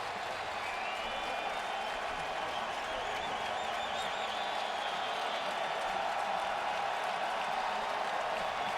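A baseball crowd of Oakland A's fans applauds and cheers at a playoff game, a continuous dense roar of clapping and voices that holds steady for several seconds.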